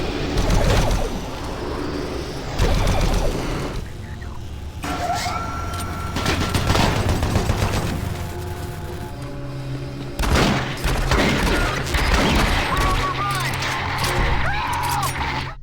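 Weapons fire in Doom 3 in rapid bursts of gunshots echoing through metal-walled office corridors, mixed with loud game effects and a narrating voice over parts of it.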